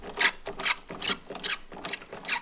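Threads of a tie rod being spun by hand onto a Polaris Axys RMK snowmobile's 36-inch Z-Broz A-arm, giving a close, rhythmic series of ratcheting, rasping scrapes, about five even strokes with no talking.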